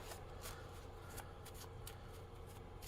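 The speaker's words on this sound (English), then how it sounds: "So the first thing we do is shuffle the driver cards" Driver cards from a 1991 Fast Action Racing stock car board game are shuffled by hand in a quiet room, giving a soft, steady, papery riffle with brief brighter snaps.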